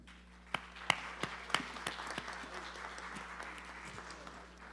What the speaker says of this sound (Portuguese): Queremos saudá-los também com uma salva de palmas.